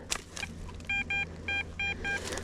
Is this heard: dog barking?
no